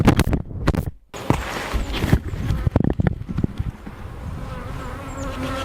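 Honeybees buzzing around a beehive during an inspection, a close, continuous droning hum mixed with sharp knocks and clatter of hive parts early on, fading to a softer steady buzz.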